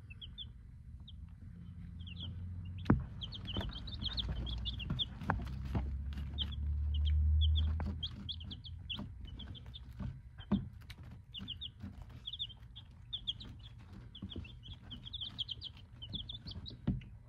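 Chickens under a heat lamp chirp and cluck in frequent short bursts throughout, with occasional louder knocks and a low steady hum underneath.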